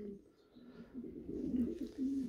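Racing pigeon cooing softly in a loft, a low throaty warble that swells and repeats in short rolling phrases over about two seconds, fairly quiet and close.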